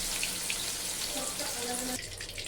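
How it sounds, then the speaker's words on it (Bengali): Jackfruit pieces frying in hot oil for a Bengali jackfruit and prawn dish, a steady hiss and sizzle with watery bubbling, fairly close, while someone talks over it. "তেল গরম হয়ে গেছে, এবার কাঁঠালগুলো আমি একটু ভেজে নেব"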